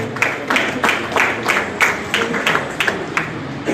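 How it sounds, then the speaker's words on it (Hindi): Audience applause welcoming a guest at a public event in Chhindwara, steady rhythmic clapping from a crowd sustained for several seconds without pause. "जोरदार तालियों से हम आपका अभिनंदन करें।"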